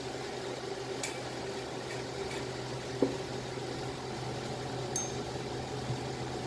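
Microwave oven heating a cup of milk, a low steady hum with a faint fan whir, broken by a few soft clicks and ticks, quiet and unbroken with no voices.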